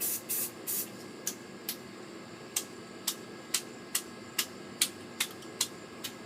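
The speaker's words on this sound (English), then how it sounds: "You just spray it." A spray paint can fires a rapid series of about a dozen short hissing bursts, each flicked off to the side to spatter small star dots, crisp and close with brief pauses between them.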